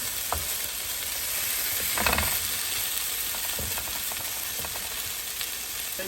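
Green chilies being stirred into an eggplant cutlet mixture, with a steady broadband sizzle and scattered scraping spoon strokes, a louder burst near the middle, no voices.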